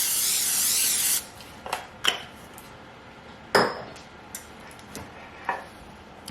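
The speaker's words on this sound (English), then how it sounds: "So let me spray" Cooking spray hisses in one sustained blast into a casserole dish, followed by scattered clicks and light clatters of the can and dish in a kitchen.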